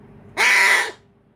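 A cockatoo, kept as a sick pet bird that comes indoors, lets out one loud, harsh squawk lasting about half a second, close by and alone against quiet background.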